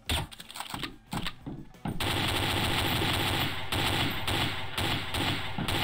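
Rapid bursts of automatic gunfire rattle loudly and nearly nonstop, with brief pauses, from weapons in the shooter game Trouble in Terrorist Town.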